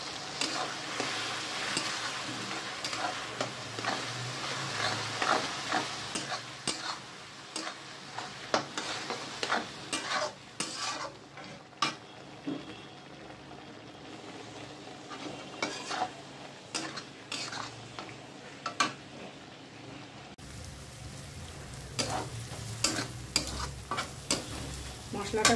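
Masala of garlic, onion, ginger and chilli fries in a pan for prawn paneer biryani, a steady broadband sizzle broken by frequent scrapes and clinks of a stirring spoon, with a brief cut partway through.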